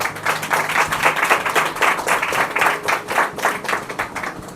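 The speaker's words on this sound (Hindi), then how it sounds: "जोर से प्रभु के लिए ताली बजाए।" A church congregation claps loudly in praise during a sermon, many hands striking together in a steady, rhythmic beat that carries on strongly throughout.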